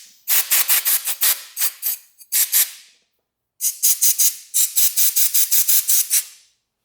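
Air blown by mouth into a rusty part of an old Russian military motorcycle left untouched for over 30 years, close, loud breathy puffs in two bursts of quick rhythmic blows separated by a short pause.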